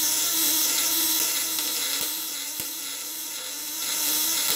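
A platinum electric shocker device set on its loose setting gives off a steady, smooth, high hissing hum with a few faint clicks. The tone stays constant and close, and no one speaks over it.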